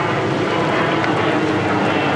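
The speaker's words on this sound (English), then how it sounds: "Passenger jet." Passenger jet passing overhead near an airport, a loud, steady broadband roar that fills the whole moment with no voices over it.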